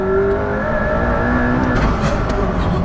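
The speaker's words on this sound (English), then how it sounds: "This car feels like it accelerates quicker" McLaren supercar, Senna or P1, accelerating hard, a loud sustained engine roar with rising tonal whine heard from close inside the car, with no talk over it.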